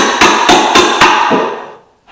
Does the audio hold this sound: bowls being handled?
no